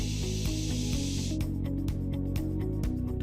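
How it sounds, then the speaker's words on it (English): A short burst of polyurethane filler sprays onto T-profiles of a ventilated façade as a steady hiss lasting about a second, over continuous background music that carries on after the spray stops. "The polyurethane filler is applied on the T-profiles."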